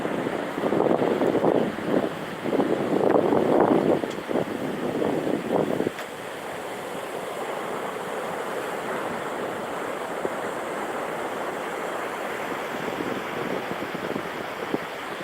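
Ocean surf breaking on a beach at night under high wind, a steady broadband wash with louder rumbling surges in the first few seconds, then a constant windy roar of waves.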